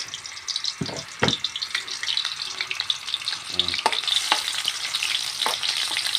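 Food sautés in a pan with a steady sizzle and frying crackle, sharp clinks and scrapes of stirring breaking in now and then, close up and without speech.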